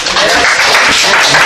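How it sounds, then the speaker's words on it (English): A party audience breaks into loud, sustained applause and clapping, a dense crowd roar filling the whole stretch without pause. "Round of applause for yourselves for making it out."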